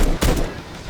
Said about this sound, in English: It fires bullets.